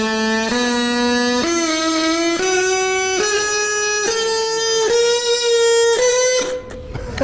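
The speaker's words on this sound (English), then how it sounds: "a straw oboe." A homemade straw oboe played with a buzzing, reedy tone, a series of sustained notes stepping upward in pitch one after another, loud and close.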